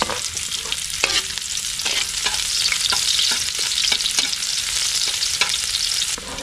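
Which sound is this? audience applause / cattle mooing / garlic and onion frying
garlic and onion frying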